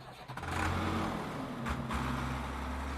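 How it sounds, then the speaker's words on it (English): A big tractor engine in a farm workshop turns over and catches, then settles into a steady, loud low rumble that revs up once and runs on with no voices. "Farmer Dan started up the big engine."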